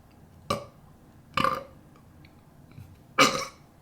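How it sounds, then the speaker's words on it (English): Three loud, close burps from a man, at roughly one-second intervals, each a short guttural belch, with quiet room noise between them and no talk. "I just need to get those out"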